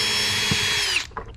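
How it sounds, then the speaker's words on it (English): A power drill whines loudly and steadily while backing screws out of a Hobie Mirage Lynx kayak seat, then spins down and stops, leaving a few faint knocks. "I'm going to use a drill."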